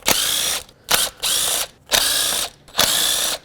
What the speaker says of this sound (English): I'm going to remove all my ignition coils, 10mm bolts.